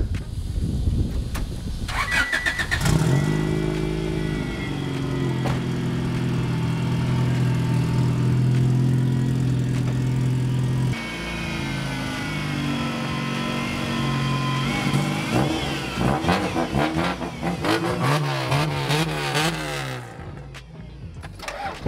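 A Honda Civic with a B18 engine and a worn alternator cranks, starts and runs at a steady idle for a long stretch, then revs up and down several times nearby, with a whining tone over the engine drone.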